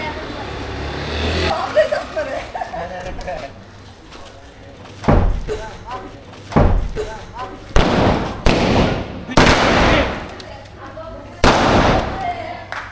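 Firecrackers explode during a Bhogi festival celebration: about six sharp, loud, close bangs come at irregular intervals over a steady hum of nearby voices and crowd chatter.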